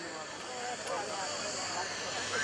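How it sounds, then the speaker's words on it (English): Gary Ward's MX2 aerobatic airplane comes in to land at the 2013 Greenwood Lake Airshow, its engine a steady, fairly loud drone that holds for the whole stretch with crowd noise underneath and a voice talking over it. "Gary Ward is bringing that MX2 in for a landing."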